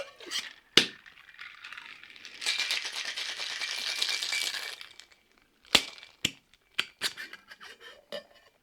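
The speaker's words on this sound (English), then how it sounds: "Add some ice. And give it a good shake." Ice rattles in a cocktail shaker during about two seconds of rapid, dense shaking for a Mai Tai, framed by sharp glassy clinks and knocks before and after.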